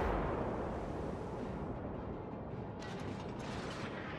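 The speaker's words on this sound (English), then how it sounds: "I'm lining my guns up, lining guns up. Firing, firing." Warship guns firing in World of Warships, a deep booming artillery rumble with rolling low-end blasts and a few sharp crackles near the end, loud and dense.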